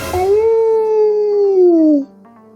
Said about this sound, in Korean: 어디서 늑대의 울음소리,